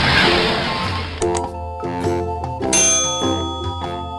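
A notification bell sound effect opens with a short whooshing swell, then rings out in a series of bright metallic dings and chimes with lingering tones, loud and with no voices.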